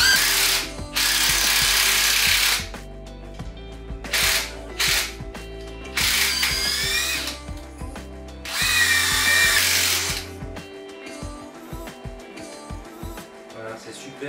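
A brushless 18 V impact driver drives a 10 mm bolt in loud hammering bursts, ratcheting and whirring in several runs with short pauses between them, close to the listener, and a voice comes in briefly alongside.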